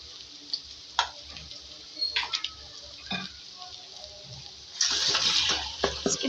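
Red chilli and coriander powder spices frying in a pan with a little water for Pui saag with potato and prawns, giving a steady sizzle with stirring clatters and a louder hiss burst near the end.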